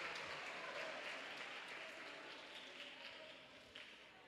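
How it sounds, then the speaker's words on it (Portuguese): Congregational applause fills a church worship service, a steady broadband wash of many hands clapping at moderate distance, sustained without pause under faint background voices. "Aplauda o nome do Senhor"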